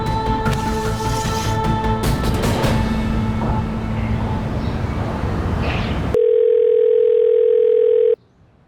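A telephone call goes unanswered on the line: a busy mix of tones and background noise, then a single steady electronic tone held for about two seconds before cutting off abruptly.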